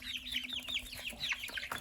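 Chickens being moved between housing cluck repeatedly, a steady run of short, fairly close calls over a low constant hum like an air conditioner.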